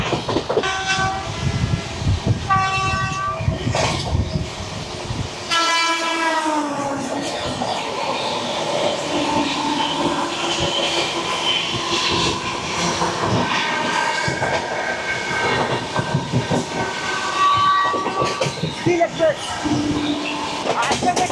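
Steel Express train rushing past on an adjacent track during an overtake, a loud sustained rumble and clatter of rail cars with horn blasts and hissing, heard from aboard the Puri–Howrah Shatabdi Express, with people talking over the noise.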